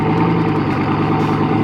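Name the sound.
Bugatti car engine idling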